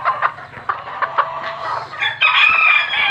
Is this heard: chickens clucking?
yes